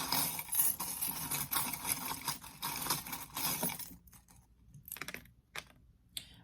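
Tarot cards are shuffled in a steady, rapid riffling rustle for about four seconds, then give way to a few scattered card slaps and soft handling sounds.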